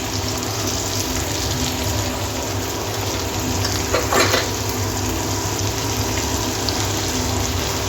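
Two sliced onions with green chillies frying in oil in a pan, a steady, close sizzle running throughout with a brief stir partway through.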